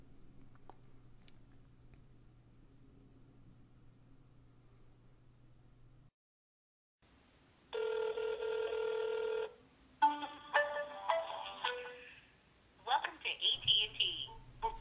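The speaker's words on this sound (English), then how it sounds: "Let's make a phone call to our friends over at AT&T this time." An iPhone places a call to AT&T: after a low hum and a brief silence, a steady tone burst is followed by a run of short dialing beeps and ringing tones, with faint chewing-like sounds near the end.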